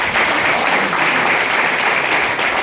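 An audience claps throughout a motivational business speech, with dense sustained applause that stays loud and even from start to finish.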